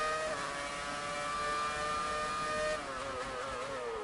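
A Ferrari Formula 1 car in F1 2019 accelerates with a steady high engine whine that climbs in pitch, then drops briefly on a gear change before climbing again.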